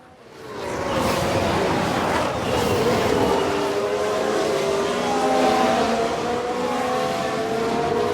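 A 1991 Ferrari Formula 1 car in the F1 Manager 22 racing game, its high-pitched engine rising in and then holding a loud, sustained whine with shifting pitch as it races past.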